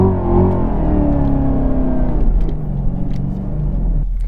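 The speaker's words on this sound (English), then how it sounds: "Little line lock burnout, second gear launch, see what we can do here." A 2018 Chevrolet Camaro ZL1 1LE at a half-mile race event idles and rumbles loudly and steadily, engine tone shifting slightly as it builds, up close, ahead of a line-lock burnout and second-gear launch.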